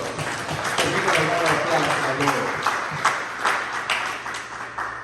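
A church congregation claps in rhythmic bursts while a voice speaks over it; the applause is moderately loud and trails off toward the end.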